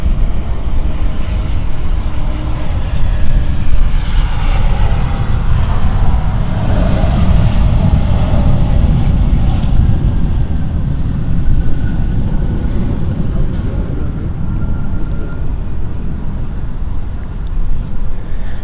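Aircraft taxiing at Frankfurt Airport, a loud, continuous low engine roar and rumble that stays steady throughout with faint higher whine above it and no clear talking.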